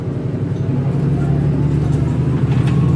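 A city bus rumbling along on a ride, with a loud, steady low engine drone and road hum throughout and faint murmuring voices in the background.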